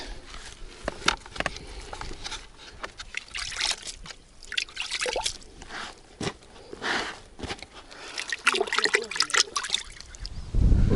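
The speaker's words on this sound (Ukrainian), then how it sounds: "Ну, трошки треба водички додати." Water is poured into carp fishing groundbait and worked in, giving irregular trickles, splashes and wet squelches at close range, with scattered handling noises between them.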